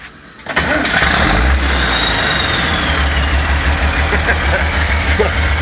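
A vehicle engine cranks and fires up after a gummed-up injector pump was fixed, then settles into a loud, steady idle with a regular low pulsing beat, close up, with no talking over it.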